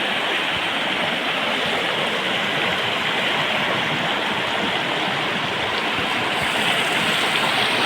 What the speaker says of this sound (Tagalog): At kung sapang ito, kinukuha namin ng patubig sa palaya.